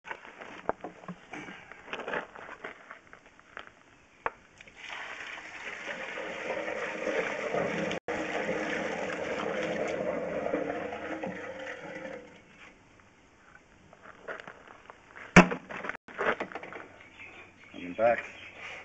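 A toilet flush test sends water rushing through an earthenware sewer drain pipe toward the main, a steady gushing rumble swelling over several seconds then fading, with scattered knocks and clatters around it.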